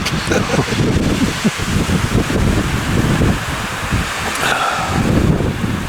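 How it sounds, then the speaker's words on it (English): Strong wind buffeting the microphone on a high Colorado mountain peak, a continuous rough roar with gusty swells, close and loud throughout. "We're up here on Dome Peak, waiting for the wind to die down."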